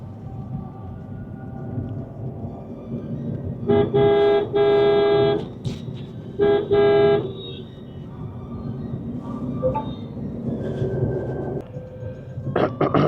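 Car creeping slowly at about 20 km/h through dense traffic, with low engine and road rumble under repeated loud horn blasts from nearby vehicles in two long bursts, plus scattered shorter toots.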